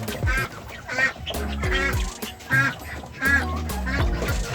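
Young Muscovy ducks on a bird farm give repeated nasal quacks and honking calls, several birds overlapping in loud, close bursts over a busy background.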